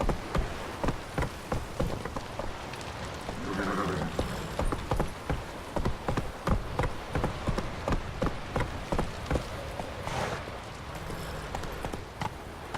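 Horse hooves galloping in the video game The Witcher 3 – Wild Hunt, a fast and steady rhythm of loud clopping beats running through the whole stretch over a constant background rush.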